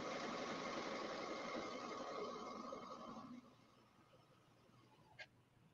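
Brother Airflow serger stitching a test seam on a scrap of fabric, a steady close motor whir that runs for a few seconds, then stops, followed by a brief click.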